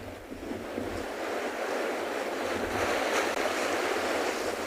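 Strong wind blowing across a seashore where penguins and whales gather, a steady rushing roar with surf noise and microphone buffeting, no voices.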